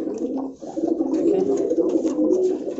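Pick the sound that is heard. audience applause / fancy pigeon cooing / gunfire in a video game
fancy pigeon cooing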